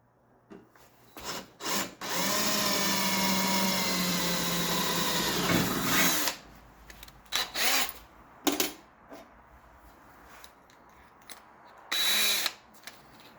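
A power drill with a worn bit whines steadily for a few seconds, grinding into a Triumph TR6 during hood release installation, then stops, followed by scattered knocks and short bursts of handling noise.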